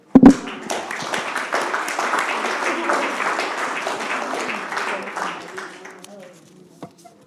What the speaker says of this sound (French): je veux vous applaudir.